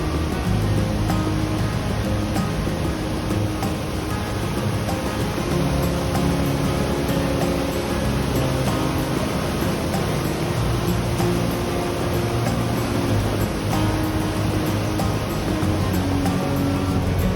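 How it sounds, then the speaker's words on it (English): Monsoon-swollen waterfall torrents in Munnar roar in a loud, steady, unbroken rush of gushing water that fills the scene with dense broadband noise from start to finish, with no voices. "a constant chorus of gushing water defends your ear"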